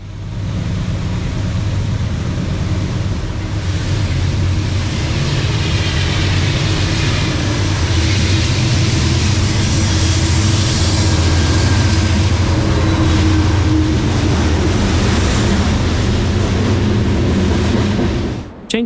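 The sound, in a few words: loaded stone freight train P&W CT2 passing, GE B39 locomotives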